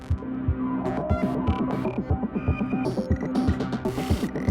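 Acid synth line in Ableton Live riding over a steady thumping kick and layered electronic percussion, squelchy, resonant notes cycling in a dense, loud loop with no voices.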